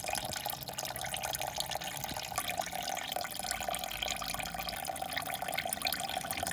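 Water leaking out of a Sprinter van, a faint, continuous trickling flow with a steady watery hiss and scattered small splashes, with no talk over it.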